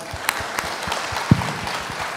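An audience applauds in a hall during a student talk with an agriculture minister, a diffuse, fairly steady wash of clapping with a few sharper claps standing out.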